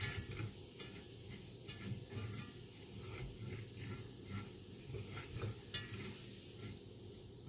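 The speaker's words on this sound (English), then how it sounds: "I'm going to make my roux." A quarter cup of flour cooks into a roux in a pan, with soft steady sizzling and repeated scraping stirs of a utensil, faint and close, with no talk.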